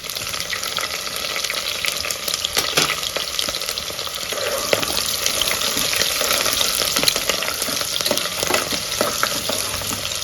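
Slit green chillies and cut onions frying in hot oil with whole spices for pulao, a loud continuous sizzle with occasional crackles and stirring scrapes.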